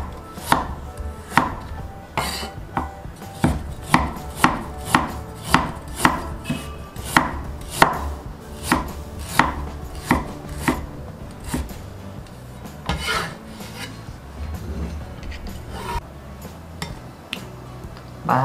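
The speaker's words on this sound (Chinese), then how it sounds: "切点姜片" A knife slices ginger on a cutting board in a steady run of crisp, evenly spaced chops, loud and close, slowing and thinning out toward the end with no talking.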